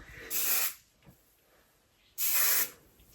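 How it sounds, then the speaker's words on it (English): Two short bursts of hair spray, each about half a second, close and crisp, separated by a quiet pause. "I kind of spray this to it kind of sets the curls."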